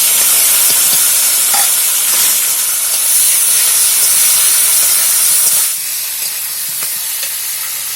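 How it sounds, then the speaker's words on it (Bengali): Jackfruit pieces frying in oil give off a steady, loud hiss and sizzle that fills the whole stretch, dropping slightly in level near the end, with no voices. "এঁচড়গুলো ভাজতে কিছুক্ষণ সময় লাগবে, এগুলো ভাজা হোক আস্তে আস্তে"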